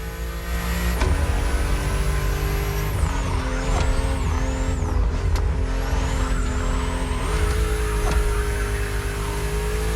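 BMW M2 and M4 race cars in the video game The Crew Motorfest, their engines droning loudly and steadily throughout, rising and falling in pitch as they accelerate and shift through the bends of a narrow, twisty road.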